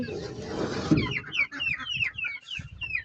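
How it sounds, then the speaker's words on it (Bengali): Newly released chickens, let out of their cage, cluck and call repeatedly at close range in a busy overlapping chorus, with no talking. "এই যে আমার নতুন মুরগিগুলোকে ছেড়ে দিয়েছিলাম।"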